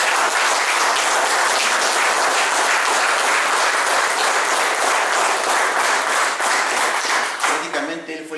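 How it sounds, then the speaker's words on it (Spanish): An audience applauds the mayor at an official certification ceremony, with dense, sustained clapping that holds steady for several seconds before thinning out as a voice begins to speak. "le demos un aplauso al señor alcalde"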